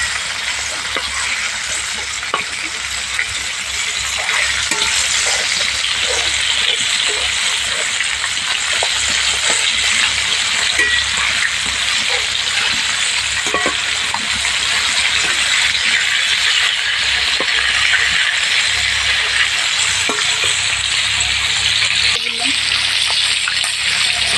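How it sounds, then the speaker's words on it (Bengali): Chicken pieces coated for KFC-style crispy fried chicken frying in hot oil over medium heat, giving a steady, dense sizzle that runs unbroken the whole time, with faint crackles and no talking. "একদম ভালোভাবে ভেজে নিতে হবে মিডিয়াম জালে"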